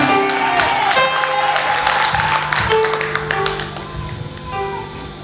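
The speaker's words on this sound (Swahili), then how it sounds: "Nipigie makofi" A church congregation claps on request during a sermon: a sustained burst of dense applause filling the room, loud at first and thinning toward the end, with tonal sounds underneath.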